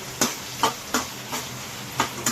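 Onions and green chillies stir-frying for taro pulusu, with a spoon scraping the pan in about six evenly spaced strokes over a soft, low sizzle.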